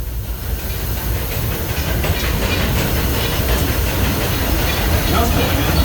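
Disneyland Railroad excursion train pulled by steam locomotive Ernest S. Marsh No. 4 rolls along the rails at night, a steady loud rumble with faint clickety-clack and hiss throughout, no clear talk.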